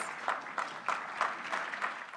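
Guests at a mayor's business luncheon applaud themselves, a fairly soft crowd clapping with a loose, pulsing rhythm and slight swells every third of a second or so.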